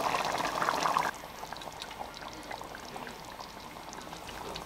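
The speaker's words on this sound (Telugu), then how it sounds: "వాటర్ పోసి 10 నిమిషాలు ఉడికిన తర్వాత 1 టీ స్పూన్ ధనియాల పొడి, హాఫ్ టీ స్పూన్ జీరా పొడి వేసి ఆయిల్ తేరేంత వరకు ఉడకనివ్వాలి" Quail curry cooking in a pot bubbles and simmers softly, a faint close burble of liquid with a brief brighter splash at the start, then steady low bubbling.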